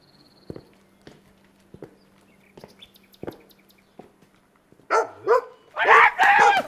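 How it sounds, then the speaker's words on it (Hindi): A dog in a neighbourhood street barks several times, loud and close, in quick bursts near the end, after a run of soft, scattered taps and footsteps. "कुत्ता भी जबरदस्त।"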